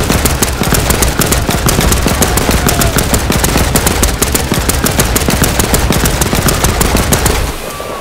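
A loud, sustained stream of machine gun fire in the war game Land of War, rapid close shots hammering without pause for several seconds before cutting off near the end.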